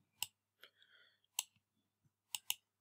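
Keyboard key presses while entering a command, a few sharp, close clicks spaced irregularly in a quiet room, with a faint murmur between them.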